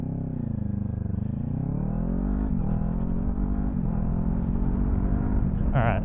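A Kawasaki Ninja 400 motorcycle pulls away on a wet road, its engine rising in pitch through a steady climbing drone, close and continuous.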